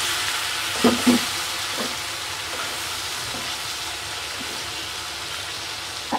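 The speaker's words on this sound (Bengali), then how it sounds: "লটে মাছের ঝুরি ভাজা" Lote (Bombay duck) fish jhuri frying in a pan, a continuous soft sizzle with a few brief stirring knocks near the start and one at the end, no talking.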